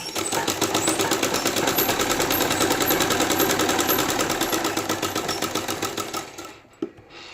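A sewing machine stitching fabric for a beaded sleeve, running at a steady fast rhythmic chatter close by for about six seconds, then slowing and stopping with a final clunk.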